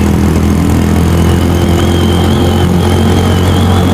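A Venom X22R motorcycle fitted with new sprockets runs hard in second gear at high revs, its engine a loud, close, steady drone throughout.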